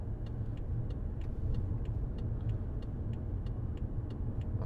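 2015 BMW 535d diesel heard from inside as it pulls hard, a low steady rumble with faint regular ticking, constant and moderately quiet throughout.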